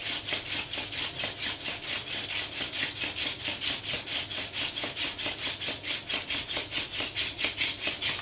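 A wooden hand-drill spindle rubbing against a wooden hearth board in quick, steady back-and-forth strokes, a close, dry, raspy friction rhythm repeating evenly throughout with no talking.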